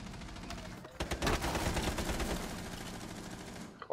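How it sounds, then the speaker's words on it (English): Rapid automatic gunfire in Rainbow Six Siege rattles in a dense, continuous burst at close range, starting quietly and swelling after the first second, with a sharper shot right at the end. "Cavi shooting at me."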